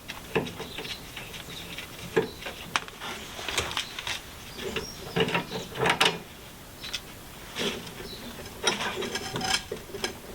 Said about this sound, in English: I'm going to go ahead and I'm going to unbolt the prop shaft.